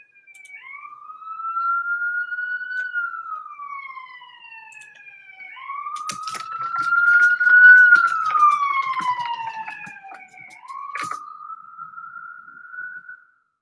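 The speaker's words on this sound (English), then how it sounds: "Sorry about the sirens." Police sirens wail outside, rising and falling in long sweeps that swell louder as they pass and then fade, carrying clearly through an indoor setting.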